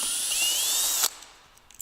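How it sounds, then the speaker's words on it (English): A power driver backs a screw out of a rail on a Vistabule roof rack, a close, high whirring buzz for about a second that stops abruptly, followed by faint handling sounds. "So now we can take out this last screw."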